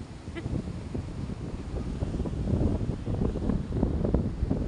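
Strong monsoon wind by the seaside buffets the microphone in a constant low rumble that swells into heavier gusts partway through.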